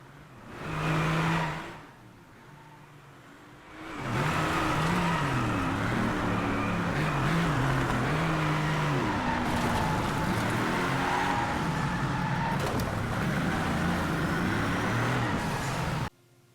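Racing cars in the PlayStation 4 game Drive Club roar through the game audio, with continuous engine drone and revving that swells after a brief lull and holds steady, fairly loud, before cutting off.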